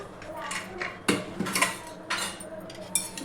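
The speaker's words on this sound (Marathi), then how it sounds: "आता झाकण काढून घेते" A lid is lifted off a cooled pressure cooker in a home kitchen, giving several light metallic clanks and clinks spread over a few seconds, with faint background noise.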